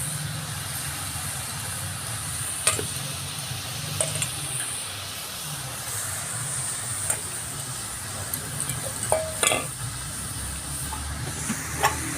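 Grated potato goes into a hot frying pan with carrot and beet for vegetable chop and is stirred, giving a steady sizzling hiss broken by occasional sharp scrapes and clicks.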